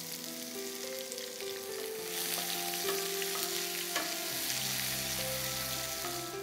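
Onions saute with cinnamon, fennel and curry leaves for keema masala, making a soft, steady sizzle with a few faint stirring taps beneath sustained background music.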